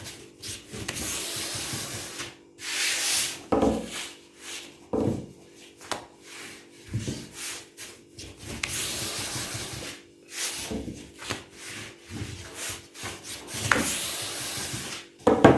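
Thin dough sheets for Turkish su böreği being rolled out with a rolling pin, repeated close rubbing and swishing strokes in an uneven rhythm, with brief pauses between passes.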